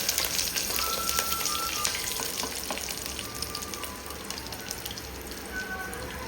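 Green chilies and dried red chilies sizzle in hot tempering oil for a goat bone soup, with a steady, close crackling fry and scattered sharp pops throughout, no voices.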